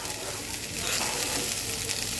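Rice and green peas stirred and fried in a pot for white pulao, a steady dense sizzle with scraping stir noises running continuously and close up.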